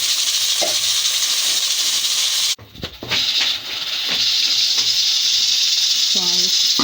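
Tempering spices for sarson ka saag sizzle and hiss in hot oil, a steady crackling fry, briefly interrupted by a clatter before the sizzle resumes close by.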